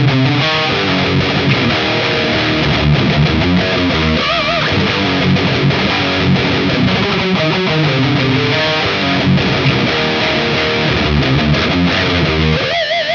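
An electric guitar runs through a Mooer GE200 Plus multi-effects unit with its pitch shifter engaged, playing continuous distorted, harmonized lines at steady high volume with no talking.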